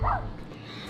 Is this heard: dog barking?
yes